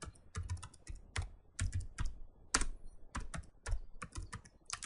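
Rapid typing on a computer keyboard, close and fairly quiet, with irregular bursts of key clicks and occasional heavier taps, no voices.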